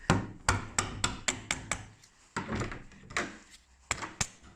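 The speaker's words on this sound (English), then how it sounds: "Just hit it a little bit with a hammer." A hammer knocks on a door's barrel lock in a quick series of sharp, close metallic taps, about a dozen blows in uneven bursts.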